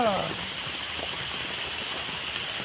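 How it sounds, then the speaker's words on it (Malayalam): Heavy rain falling steadily in Kerala, a dense even hiss of drops on surfaces that continues unbroken, with a brief voice at the very start. "മഴ പെയ്യുന്നുണ്ട് കേട്ടോ നല്ല മഴയാണ്"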